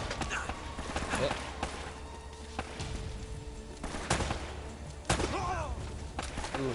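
Gunfire in an Uncharted game firefight: scattered sharp shots cracking out at irregular intervals, mixed with other game action and a voice talking over it.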